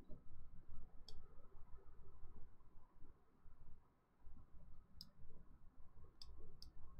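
Sharp, faint computer mouse clicks come one at a time at uneven intervals, four in all, over a low, steady background murmur.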